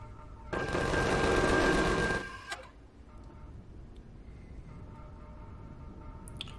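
Guns fire in the Empyrion Galactic Survival space game as a loud rapid burst lasting about two seconds, then cut off, leaving a low mechanical hum and faint clicks.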